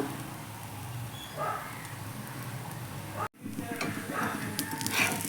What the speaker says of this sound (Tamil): இப்போ நம்ம ரெடி பண்ணி வச்சுருந்த பரோட்டாவை இதில் வச்சிடலாம்.